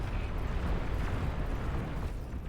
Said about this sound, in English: That volley of Olympus plasma cannons just bouncing into the back.